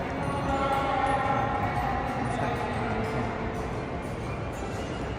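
A Disneyland tram rolls up with a steady, broadband rumble and hiss that holds evenly throughout, fairly loud and close, with no clear voices.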